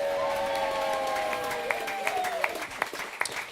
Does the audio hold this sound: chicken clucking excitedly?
no